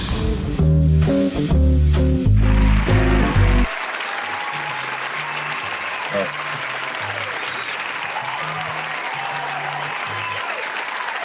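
Canned applause played during a virtual anniversary reception, a continuous recorded wash of clapping that runs after a short stretch of loud music, steady and even throughout.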